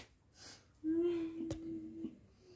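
A dying man's rattling, snoring breath comes as a faint raspy wheeze, then a steady drawn-out tonal groan with a sharp click in the middle, fairly close and quiet.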